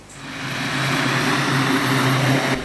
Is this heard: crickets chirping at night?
no